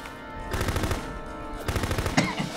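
Rapid automatic gunfire from a Full Spectrum Warrior combat game plays in two sustained bursts, loud and close, with a brief sharper shot near the end.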